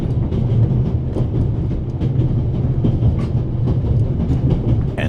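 A train rolls along the tracks in The Raven Remastered video game, a loud continuous rumble with rhythmic rattling and clacking of railroad cars, no voices.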